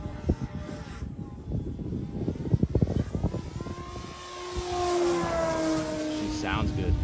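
A 3D foam RC airplane buzzes overhead with a thin electric motor whine that rises and falls as it passes, heard faintly outdoors beneath wind rumble and some handling noise.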